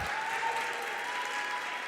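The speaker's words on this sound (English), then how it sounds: "Can we give a round of applause to Anjana for absolutely killing it today?" Steady applause fills a tech conference room as the audience claps for a presenter, even and sustained throughout, with a faint tonal hum running beneath it.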